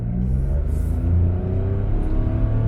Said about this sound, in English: when you press the gas, you will hear the engine grunt.